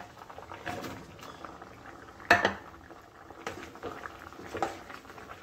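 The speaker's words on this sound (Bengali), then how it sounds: "এবার বড়াগুলো দিয়ে দেব।" Fish roe fritters dropped into a simmering potato curry for a Bengali kalia, giving a soft bubbling patter with one sharp splash-clatter midway and a few smaller plops afterward, close and moderately quiet.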